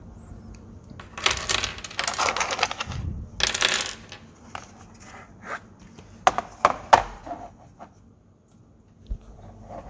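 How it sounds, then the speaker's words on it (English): Magnetic chess pieces on a small magnetic chessboard are slid aside with clattering scrapes and taps, followed by a louder clack and shuffle as the board is flipped over, then a few sharp separate knocks, close and alone. "I'm just gonna move these pieces on the side and flip over the board"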